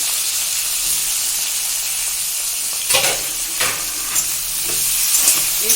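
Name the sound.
chopped onion and tomato frying with nigella seed tempering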